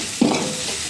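Turmeric powder and salt stirred in a hot pan, one brief spatula scrape over a steady close sizzle, no voices.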